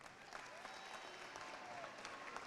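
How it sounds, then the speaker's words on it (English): Audience applause at a Special Olympics national banner ceremony, a steady wash of many hands clapping from a moderate distance, fairly faint and continuous throughout with no talk over it. "give yourselves a round of applause"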